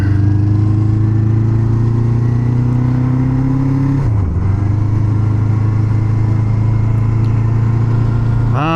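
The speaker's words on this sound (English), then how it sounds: "That low, solid sound of a four-cylinder." A 1977 Honda Hondamatic four-cylinder motorcycle engine runs steadily and loud at close range, a low solid hum with a brief dip in pitch midway before settling back.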